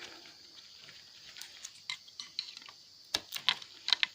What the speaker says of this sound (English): For now, cut the wires.